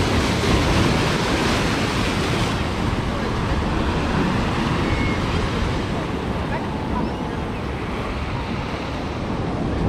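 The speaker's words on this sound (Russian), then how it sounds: "Вот идет волна, и мы будем провожать." Sea surf rolls in on a Black Sea beach at Lazarevskoye near Sochi, a continuous broad roar of breaking waves mixed with wind buffeting the microphone.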